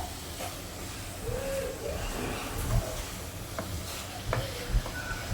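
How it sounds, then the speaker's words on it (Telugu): Coconut filling being stirred in a pan with ground cardamom and sugar powder for coconut junnu burelu, giving a soft steady scraping with a faint sizzle and a few light knocks, close by and with no talk. "ఇలా కలుపుతూ ఉండండి."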